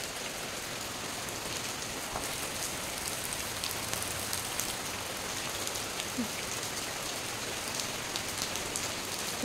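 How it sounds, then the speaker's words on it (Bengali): Heavy rain falling outside after an all-night downpour, a dense, steady hiss of drops on surfaces that holds evenly throughout, moderately loud with no voices. "আর বাইরে দেখো কত বৃষ্টি পড়তেছে, এই দেখো সারা রাত বৃষ্টি পড়েছে।"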